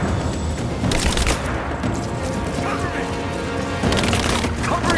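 Rapid bursts of gunfire crackle through a loud, busy firefight in Rise of the Tomb Raider, with repeated shots and booms layered under shouting voices.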